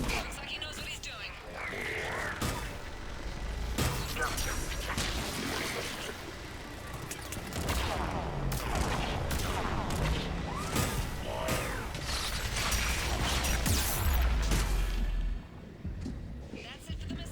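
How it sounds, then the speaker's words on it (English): Missiles launching and exploding in Mass Effect 3, with a string of heavy booms, crashes and whooshing blasts at close range, mixed with voices talking throughout. "Missiles away."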